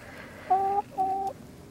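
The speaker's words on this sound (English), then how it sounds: "My little Asian jungle fowl." Two short, clear clucks from a hen, an Asian jungle fowl named Agnes, each lasting about a third of a second with a brief pause between, close and fairly loud against a quiet background.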